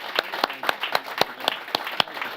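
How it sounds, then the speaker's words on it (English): An audience at a university evening event applauding with sharp, distinct claps at a steady, quick rhythm, fairly quiet, suggesting a small group rather than a large crowd. "Chris, Kerry, Rooney, Alfie, give them an even bigger round of applause, please."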